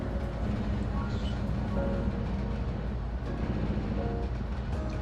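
A train in the Trainz Railroad Simulator 2022 game, a steady low rumble of engine and rolling stock running continuously at moderate level with faint tonal hums, no talking.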